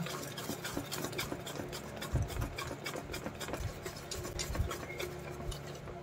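Pancake batter stirred with a mixing utensil, a steady close-up swishing and scraping that runs the whole time with a few soft low knocks against the bowl.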